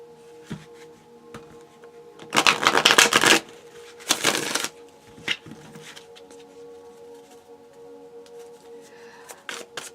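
Tarot cards are shuffled in two quick riffling bursts, close and crisp, separated by a short pause, with faint handling rustles around them.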